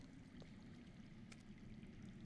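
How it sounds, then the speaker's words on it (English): Underground running water in a Game of Thrones adventure game setting, a faint, steady rushing stream heard alone at low level with no talk. "I hear water."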